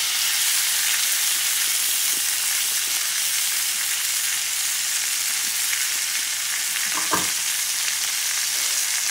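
Bison T-bone steak frying in butter in a cast iron pan gives a steady, loud, broad sizzle that holds evenly throughout, with a few faint crackles and one brief clatter near the end.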